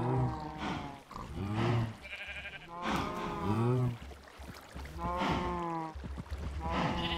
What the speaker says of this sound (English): Oh, we got a stray sheep.